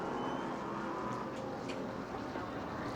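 Race cars circling the track at New Smyrna during heat races, a continuous engine drone from some distance with faint passing swells and no talk.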